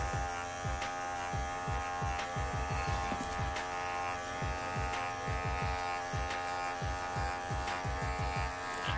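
An electric hair clipper buzzes steadily while cutting hair, with rapid rhythmic strokes and snips running through the hum. It is close and continuous, with no talking.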